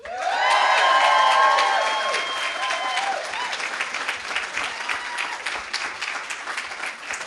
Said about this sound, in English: let's have a massive round of applause for the people watching at home